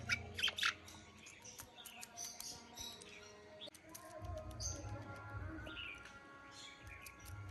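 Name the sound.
myna birds squawking while eating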